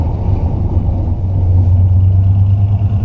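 A car with a three-on-the-tree column shifter holding second gear through a turn, a loud steady low engine drone from inside the cabin that swells slightly partway through, with no voices.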